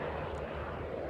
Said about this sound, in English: Hopefully the helicopters will quiet down.